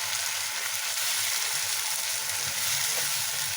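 A paste of tomato, ginger and green chilli frying in a pan with potatoes and onions, giving a loud, steady, close hiss of sizzling oil that continues without pause.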